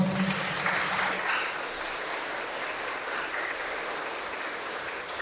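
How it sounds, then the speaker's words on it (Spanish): Wedding guests in a church in Ameyaltepec, Guerrero applaud the newly married couple, a dense steady wash of many hands clapping at once that holds for several seconds, with a brief murmur of voices at the start. "Aplauso para esta nueva pareja."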